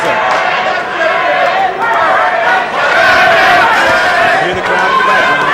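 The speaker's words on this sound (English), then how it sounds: "Hear the crowd in the background." Loud boxing arena crowd roaring and shouting continuously during the Myron Taylor versus Curtis Strong fight, a dense, sustained wall of voices with surges of cheering.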